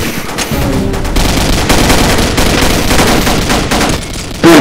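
Loud, sustained automatic gunfire in the shooter Combat Arms, a dense rattle of rapid shots from several weapons that continues almost without a break.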